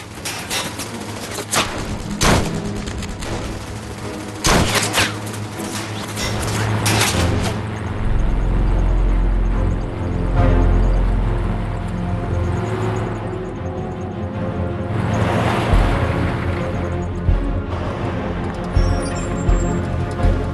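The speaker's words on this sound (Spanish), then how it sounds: "mientras el fuego enemigo agujereaba el vehículo" Repeated sharp gunshots and bursts of fire with metallic impacts and thuds as bullets strike a tank, over a heavy rumbling background, irregular and loud throughout.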